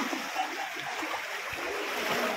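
Strong floodwater current rushes through flooded streets in Balagtas, Bulacan during Typhoon Egay at high tide, a continuous broad watery roar with faint splashing and churning and no clear voices.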